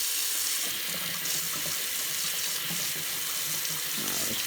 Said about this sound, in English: we're gonna go ahead and get some hot water going here